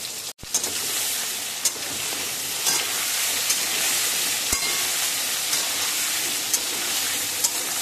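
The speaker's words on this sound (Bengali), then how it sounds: "আলুটা কড়া করে ভেজে আমি এবার একটা ডিশের মধ্যে তুলে নিচ্ছি।" Potatoes seasoned with salt and turmeric fry hard in hot oil, giving a steady close sizzle and hiss with small pops scattered throughout.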